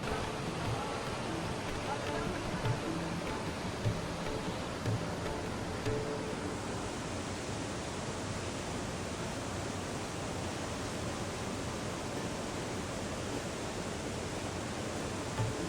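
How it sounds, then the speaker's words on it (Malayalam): A constant, broad roar of an underground waterfall inside a cave at Pokhara, Nepal, echoes without pause, dense and even throughout, with faint talk buried beneath it. "ഈ ഗുഹയ്ക്കുള്ളിൽ നിന്ന് അത്ഭുതകരമായിട്ടുള്ള ഒരു വെള്ളച്ചാട്ടം കാണാനായിട്ട് സാധിക്കുന്നത്"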